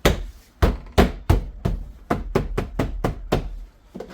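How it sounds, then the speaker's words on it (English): A series of sharp hammer blows fastening clips into a Nissan Frontier rear door panel, about a dozen strikes in an uneven rhythm, close and solid against a hollow panel. "Just going to kind of hammer them down."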